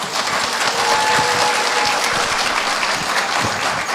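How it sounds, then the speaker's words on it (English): An audience applauds at a Hmong New Year event with steady, dense clapping at a fairly loud, even level for several seconds. "Can we give another round of applause for our keynote speaker, Billy Lore?"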